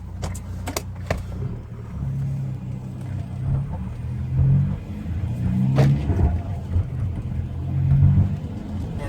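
The diesel engine of a 2005 Volkswagen Jetta TDI wagon with 193,000 miles idles close by in a low, even rumble with slight swells, and someone talks over it.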